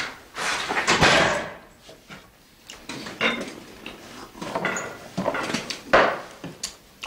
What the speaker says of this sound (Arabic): سكر الباب شايفي.